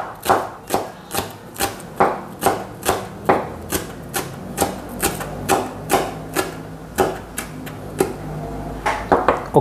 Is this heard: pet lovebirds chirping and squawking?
no